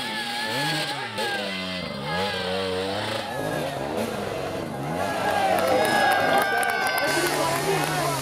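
Hard enduro motorcycle revving repeatedly during an extreme climb, engine rising and falling in bursts as a crowd cheers in the background, loud and continuous.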